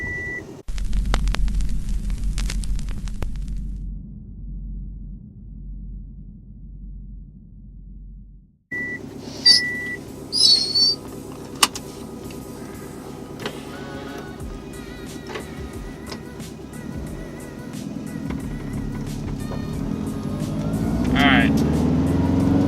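Subaru STI with a swapped JDM six-speed drivetrain: a low engine drone at startup, then a quiet cabin hum with beeps and clicks, rising into louder engine rumble while driving near the end.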